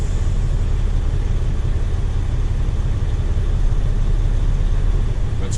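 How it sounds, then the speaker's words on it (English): A 2007 Freightliner Columbia tractor tugs against its coupled trailer, a steady, loud low engine rumble holding for several seconds with no talk. "So now I'm going to tug the trailer."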